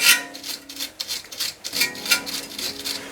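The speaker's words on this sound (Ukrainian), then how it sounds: "Зачищуємо болти кріплення амортизатора до цапфи" Shock absorber mounting bolts on a Citroen C8 are cleaned with rapid back-and-forth scrubbing, a close, rhythmic rasping rub of about two strokes per second repeating throughout, with no voice.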